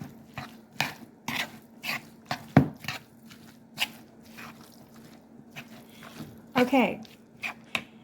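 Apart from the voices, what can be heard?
mixing salmon cake mixture with mayonnaise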